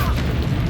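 Confringo fire-blast spell bursting in the video game Hogwarts Legacy, a brief loud booming explosion with a dense rumble, a voice over it in the midst of combat.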